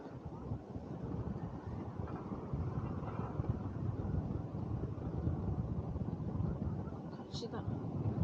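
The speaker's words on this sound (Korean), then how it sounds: "우와, 바람 많이 분다." Strong wind gusting across the sea beach at Namhangjin in Gangneung, a steady broadband roar buffeting the microphone throughout, with people talking faintly underneath.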